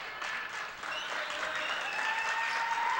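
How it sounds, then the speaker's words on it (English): Fans at a girls high school basketball game applaud steadily in a gym, a sustained round of clapping with light crowd noise throughout. "Dana Pagliuca gets a good round of applause from the fans, scoring 6 points."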